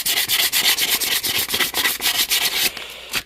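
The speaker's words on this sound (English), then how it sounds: "So we're just gonna scuff it up." A Suzuki Savage motorcycle part gets scuffed by hand before painting, fast rhythmic rubbing strokes like sanding, close and loud, slowing at the very end.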